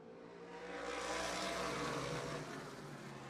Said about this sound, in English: The sound of those modifieds just bounces off the backstretch wall.